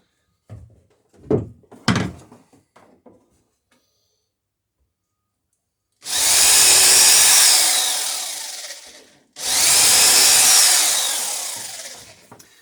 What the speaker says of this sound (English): It's important that you have your drill set to the length of nail you're using.